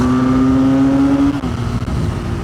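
A Benelli 502C motorcycle accelerating hard in second gear, its engine note climbing steadily then easing off as the throttle closes, loud and close with wind noise, no talk.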